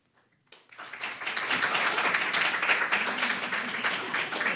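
Applause breaks out in a county commission meeting room during a public hearing, a dense, sustained crowd clapping that starts abruptly and holds steady at moderate loudness without talk.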